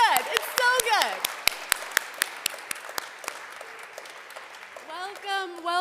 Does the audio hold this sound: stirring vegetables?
no